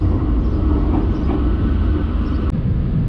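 Steady rumble of a train in motion crossing from Spain toward Hendaye, France, a constant low roar with faint rattling from inside the carriage, unbroken by voices.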